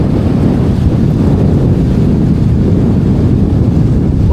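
Wind buffets the microphone while fishing from the shore of the Swan River in Perth, a loud, continuous low rumble that fills the whole stretch with no speech.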